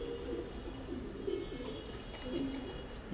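Breeder pigeons coo in a low, repeated rolling murmur, several birds overlapping steadily at close range with no talk over them.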